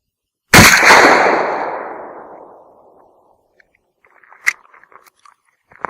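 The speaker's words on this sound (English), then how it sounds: "we'll take another shot" A Mossberg 500 Field pump shotgun fires a single loud, close blast that rings out and decays over a couple of seconds, followed by faint clicks and handling noise from the action.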